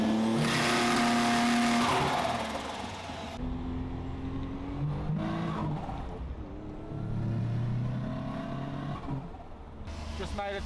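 A car engine revs hard on two-step launch control, the note holding high then dropping and climbing again in bursts, loud and close, with people talking over it.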